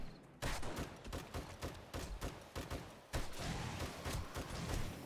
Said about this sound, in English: It's the machine gun.